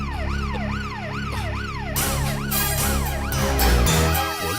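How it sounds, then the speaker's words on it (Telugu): Police jeep siren wailing in a rising-and-falling pattern, loud and close, with a second siren layering in and traffic rumble beneath, set in an urgent getaway scene. "పోలీస్ జీప్ ఎందుకు వచ్చింది?"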